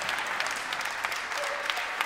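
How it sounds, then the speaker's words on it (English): Audience applause at a live acoustic concert, a steady dense patter of many hands clapping throughout, fairly close and continuous with no talk over it. "But you get twice as much applause that way."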